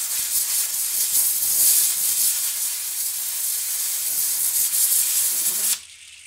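Contact cleaner is sprayed from a can into a BilletSPIN Evolution bearing, a loud, steady, close hiss that runs unbroken for several seconds and then cuts off abruptly.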